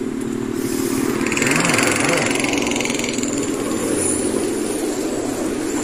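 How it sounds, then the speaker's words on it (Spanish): A motorcycle passes along Avenida Rawson, a street with a giant pothole, its engine swelling loudly for a couple of seconds, then receding into ongoing street noise. "Ahí viene una moto que casi se mata."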